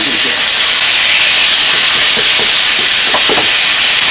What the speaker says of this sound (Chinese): 好了，我们把这个鸡腿啊放进去。